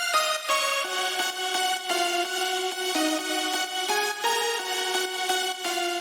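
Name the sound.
layered dance music lead with guitar layer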